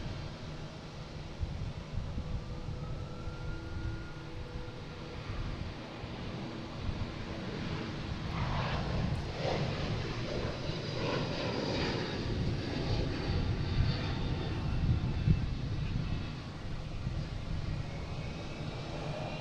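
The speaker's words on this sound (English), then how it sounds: "Here's the leader, Flight 800, United Airlines, heading to Denver," A United Airlines A321neo jet, Flight 800 bound for Denver, departs Boston Logan with a steady, broad engine roar that swells through the middle and holds loud and sustained to the end, with no talk.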